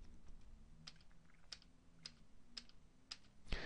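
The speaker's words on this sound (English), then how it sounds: "Now I'm going to press F on my keyboard repeatedly" Individual keypresses on a computer keyboard, the F key tapped six times at a steady, roughly half-second rhythm, close and crisp against a quiet room hum, with a slightly louder clack at the end.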